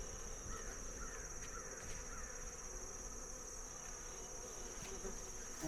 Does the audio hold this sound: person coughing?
no